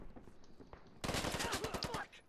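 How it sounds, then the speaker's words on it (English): Rapid burst of vehicle-mounted automatic gunfire in the military shooter game Squad, loud and close, a dense rattling volley that starts abruptly after a quieter stretch of background noise. "The vehicle is shooting at us."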